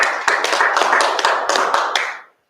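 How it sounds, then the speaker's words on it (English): Applause at an open mic event, a short burst of close hand clapping with distinct claps over a crowd wash, tapering off after about two seconds. "give him another round of applause"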